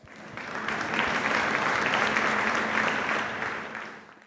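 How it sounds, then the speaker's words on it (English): A luncheon audience at the International Astronautical Congress 2024 gives a full round of applause, dense and steady from start to finish, swelling briefly before easing off at the end. "please give a round of applause for IAF team as well"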